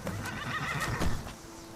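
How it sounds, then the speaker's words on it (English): The black horse Shadowmere whinnies loudly and close in the video game Skyrim, a drawn-out neigh over faint hoof clops and ambient game sound, with no talk. "You are a good horse."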